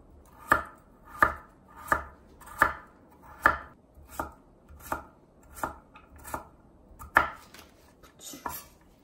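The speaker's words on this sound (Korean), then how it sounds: "깍둑썰기로 썰어주시면 돼요. 당근을 썰어 보겠습니다." A knife dicing carrots into cubes on a cutting board, about a dozen evenly spaced, close, crisp chops in a steady rhythm, with no talking.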